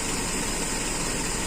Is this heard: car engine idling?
yes